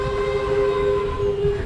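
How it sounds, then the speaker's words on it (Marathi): The Kolhapur Gondia Express pulls into Murtijapur Junction, sounding a sustained steady horn over the low rumble of the train, loud and close, with no speech. "कोल्हापूर गोंदिया एक्सप्रेस आली आहे"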